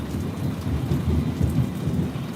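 Rain pours down steadily on a mountaintop porch, a dense, close hiss of drops striking surfaces with a low rumbling undertone throughout, no voices.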